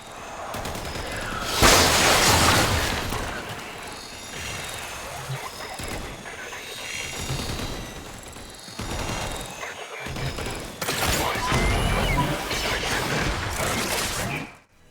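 A video game sound effect plays amid dense in-game gunfire and mechanical clatter in Warframe 1999, where a biocode loot drop gives off a distinctive cue, with bursts of noise rising and falling loudly throughout.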